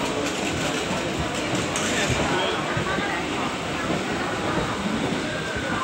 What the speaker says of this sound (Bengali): Howrah station platform